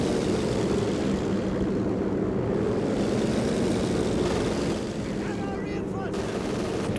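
Warplanes drone steadily through a Company of Heroes 2 battle, a continuous propeller-engine roar filling the scene with scattered gunfire beneath, loud and sustained throughout.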